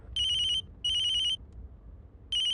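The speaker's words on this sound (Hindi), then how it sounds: "ऑफिस से फोन है।" A phone rings in three short, electronic warbling bursts with brief pauses between them, clear against a quiet background.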